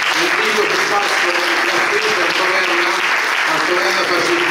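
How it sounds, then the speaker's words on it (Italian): A hall audience at a 2023 anniversary event in Termoli applauds as musicians take the stage, steady loud clapping throughout with a murmur of voices underneath. "li accogliamo con un applauso"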